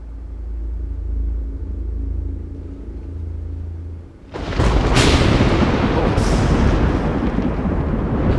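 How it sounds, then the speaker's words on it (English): A low rolling rumble of thunder builds and holds, then gives way to a loud, broad wash of noise like a heavy thunderclap or downpour as rain starts, with no speech. "It's starting to rain. What? Don't you hear the thunder?"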